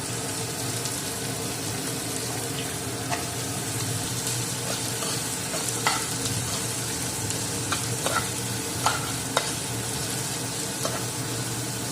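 Onions, carrot and capsicum fry in a pan for paneer noodles, holding a constant dense sizzle with scattered light utensil taps and clicks throughout.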